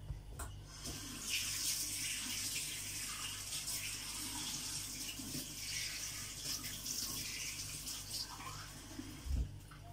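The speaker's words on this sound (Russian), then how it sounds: "Налью водички попить." Water pours steadily into a mug at a kitchen table, giving a continuous soft splashing trickle that runs for several seconds at close range, fairly quiet, ending with a small clink.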